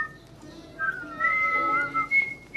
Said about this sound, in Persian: حالا اومده تو حیال خلوت بغل گوشی من داره سوت میزنه.